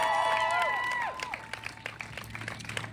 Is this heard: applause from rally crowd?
yes